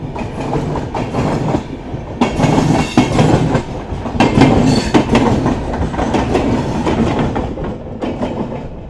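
Udyan Express train running on the Mumbai–Bengaluru route, a loud continuous rumble with rhythmic clickety-clack of wheels on rail joints, heard from inside the train.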